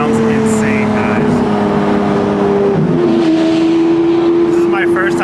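Loud Lamborghini Aventador SV with an upgraded exhaust, its engine droning steadily from inside the cabin, pitch shifting once partway through, with voices faintly underneath.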